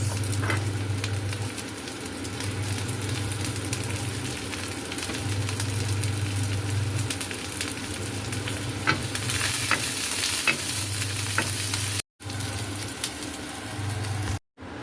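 Onions frying in a pan for a crab and vegetable coconut-milk dish, a steady loud sizzle with occasional utensil scrapes and a recurring low hum, briefly cut out near the end, no talking.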